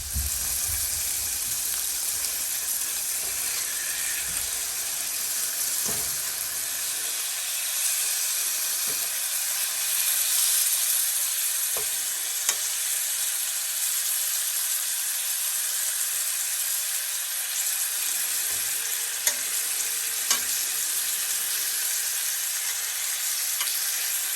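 Deer backstrap sizzles steadily in a hot skillet, a continuous broadband fry with occasional sharper pops and crackles, close and fairly loud, with no talking.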